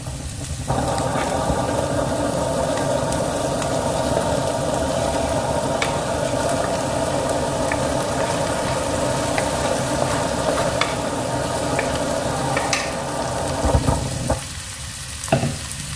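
Cooked clam meat is stir-fried and mixed in a pan for a roast, a dense, constant loud sizzle with occasional scraping and clinking of a spoon, heard close up.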